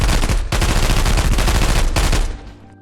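Sustained rapid gunfire in the video game Contractors ExfilZone, cheap ammo fired at legs: loud, dense automatic bursts filling nearly three seconds, with a short break early on and a fading tail at the end.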